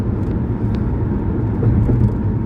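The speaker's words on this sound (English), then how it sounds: "They just zip on past." Trucks zip past on a highway, a loud, steady roar of engine and road noise heard from inside a vehicle, with faint higher whooshes as they go by.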